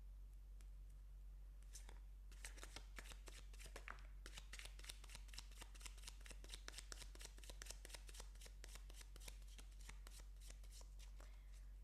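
Tarot and oracle cards being shuffled by hand: a quiet, rapid run of crisp, papery flicks and riffles that goes on for several seconds over a low steady hum, with no talking.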